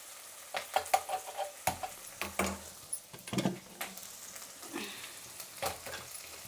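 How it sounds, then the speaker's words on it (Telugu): Onions frying in a pan for carrot sambar, with soft crackling sizzle and scattered clinks of a spoon stirring against the pan, steady and close without voices. "ఎర్రగడ్డలు వేగిపోయినాయి, ఎక్కువ వేగాల్సిన అవసరం లేదు"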